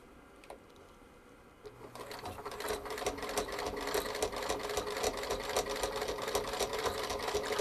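A sewing machine stitches around the edge of a fabric project bag, starting after a short pause and running as a steady rapid whir of needle strokes, close and moderately loud, with no talking.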